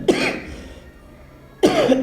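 Two close, separate coughs from a man, a pair of harsh bursts about one and a half seconds apart with quiet in between.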